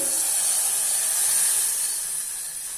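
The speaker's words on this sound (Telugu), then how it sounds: "ఇదిగోండి ఇలా గోల్డ్ కలర్లో ఫ్రై అయ్యాక ఈ మిల్క్ ఇందులో వేసేసుకోవాలండి" Milk hits hot fried rice semolina in a pan for rice coconut milk kheer and sizzles into a loud, steady hiss that fades slightly toward the end, with no voices over it.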